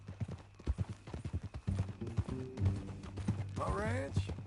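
Horse hooves clip-clop in a steady rhythm in the Western video game Red Dead Redemption 2, close and clear at first, then continuing under game dialogue and music.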